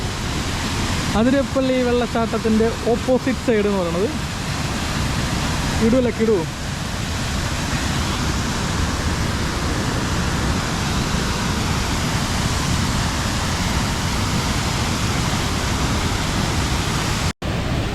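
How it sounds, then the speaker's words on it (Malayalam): Athirappilly waterfall in a forest setting, heard as a steady, dense roar of falling water that fills the whole stretch, with a voice briefly speaking over it near the start. "അപ്പോൾ ഇതാണ് നമ്മുടെ അതിരപ്പള്ളി വെള്ളച്ചാട്ടം"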